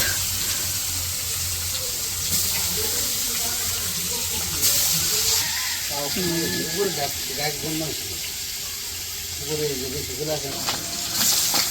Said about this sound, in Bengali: তো মাছ ভাজা শেষ, মাছ ভাজা নামাই নিচ্ছে